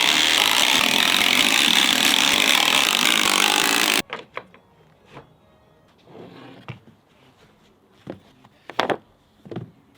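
Wooden deck boards being screwed down, a dense loud burst of driving noise for about four seconds, followed by scattered close taps, clicks and scrapes of wood and tools.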